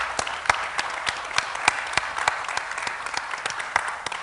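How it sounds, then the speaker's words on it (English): Sustained applause from a crowd, steady clapping with scattered sharper claps throughout, fairly close and loud, with no talking. "so give her a round of applause."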